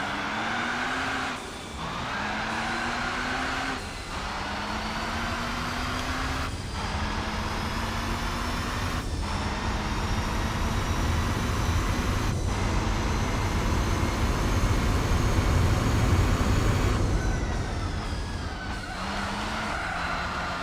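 Renault Clio racing in Gran Turismo 4, a steady engine drone with rising, shifting tones running continuously and fairly loud, broken by brief drops that sound like gear changes.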